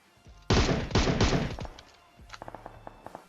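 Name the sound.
gunshots in video game PUBG Mobile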